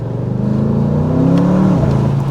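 Engine of a 2023 Audi S8 facelift revs loudly while driving, a steady deep drone that rises in pitch, then dips and settles briefly before continuing, close and continuous with no talking.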